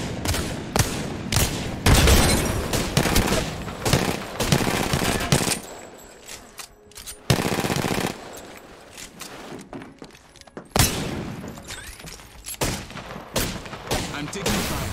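Rapid bursts of video game gunfire crackle through a 1v1 shooter match, loud and dense with short lulls between volleys and some booms mixed in.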